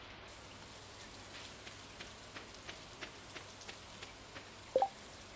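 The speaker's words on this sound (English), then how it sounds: "This is the second day in a row of raining." Steady rain patters softly in the Stardew Valley video game, a faint continuous hiss dotted with evenly spaced drip ticks, with one brief sharper blip near the end.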